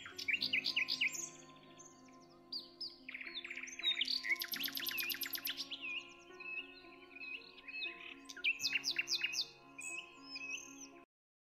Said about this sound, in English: the beautiful birds whose songs were the very fabric of the forest.